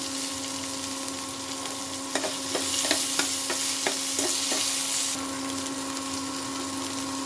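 Garlic, chopped tomato and chilli sizzle steadily in a kadhai pan for kadhai paneer, with a short burst of quick stirring scrapes in the middle and no talk.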